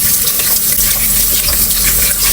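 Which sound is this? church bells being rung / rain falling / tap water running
tap water running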